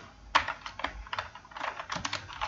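Keys on a computer keyboard clatter in a quick, irregular run of close, crisp taps, with one sharper press standing out near the start, while no one speaks.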